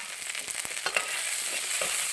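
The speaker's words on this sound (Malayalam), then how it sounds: "ഉള്ളിയുടെ നിറം ബ്രൗൺ ആവുന്നോടം വരെ നന്നായിട്ട് വാട്ടിയെടുക്കുക." Onions with a pinch of salt sautéing in a pan for a Kerala-style okra curry, a bright steady sizzle with a few light scraping stirs early on, close and without voices.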